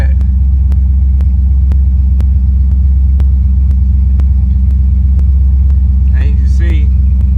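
A Buick Regal fitted with Holley EFI idles steadily on a cold start, a loud, even low rumble with faint regular ticking throughout and a brief higher chirp near the end.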